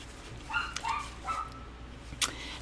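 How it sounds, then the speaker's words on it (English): Pet dogs barking indoors, a few quick yips and whimpering barks in a short burst, close and moderately loud over low background hum. "I do have dogs and they're very loud today, so I want to warn you."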